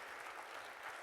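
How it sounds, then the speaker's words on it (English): A conference audience at a wilderness congress in the Black Hills claps in a brief, dense burst of applause that sounds steady and somewhat distant, with no voices over it. "Can we give another hand of applause to Michael?"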